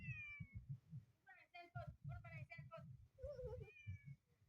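A cat that has come out of the packaging of a mystery box gives several clear, close meows, each one rising and falling. Someone talks over and between them.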